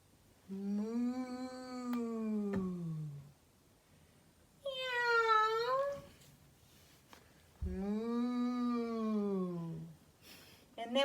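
A person imitates a cat, making three long, drawn-out meows with rising and falling pitch during a cat-cow yoga stretch, each lasting two to three seconds and separated by short pauses.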